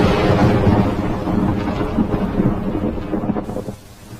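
Cartoon sound effect of thunder and heavy rain, a loud, dense roar of downpour with rumbling thunder that fills the scene throughout, easing slightly at the very end.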